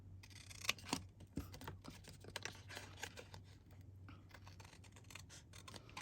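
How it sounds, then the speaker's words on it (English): Metal snips cut out a wheelbarrow pattern, with quiet, close crisp snipping clicks repeating irregularly over a faint low hum. "now I'm going to just use my snips and I'm going to cut this out"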